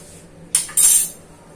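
Cutlery clinks against a bowl in two short bursts while ingredients for salty shankarpali dough are mixed, the second clatter longer, with quiet room tone before and after.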